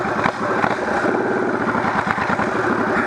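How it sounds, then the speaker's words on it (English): A motorcycle pulls away uphill in second gear, its engine loud and close with a steady rapid chugging throb throughout. "Do a takeoff going uphill in second gear."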